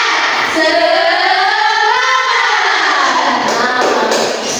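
A class of primary school children clap and shout together in a loud, sustained rhythmic chant, voices rising and falling with a cheering crowd quality.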